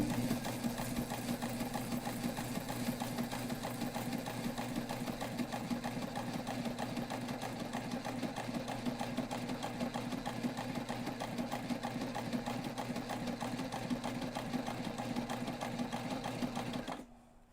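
A heavy sewing machine stitches a backpack in one long steady run. The needle chatters fast and rhythmically close by, then stops abruptly at the end.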